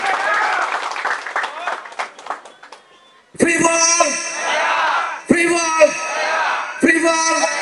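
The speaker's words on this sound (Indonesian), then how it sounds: "Tepuk tangannya." Crowd applause and cheering at an indoor inauguration of the 234SC organisation's Suradadi branch in Tegal Regency, with bursts of clapping and whoops in three loud waves after a stretch of announcer talk and music.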